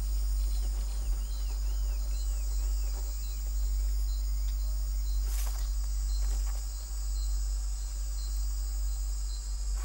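Insects chirp at dusk in the Australian desert, a dense continuous high trilling chorus with a steady low background hum and occasional faint calls.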